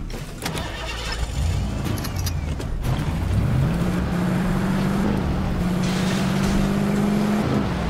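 Car engine in the Fortnite video game, revving up with a steady rising drone that holds through most of the stretch, loud and close, with brief noises near the start.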